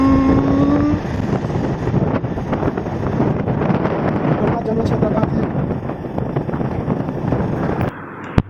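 Heavy wind roar buffets the microphone as a motorbike rides along a road, steady and loud throughout, with someone speaking briefly at the start.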